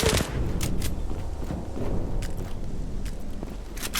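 Rapid pistol shots crack out in the online shooter Zula, a string of sharp reports layered over game ambience and scuffling footsteps, moderately loud throughout.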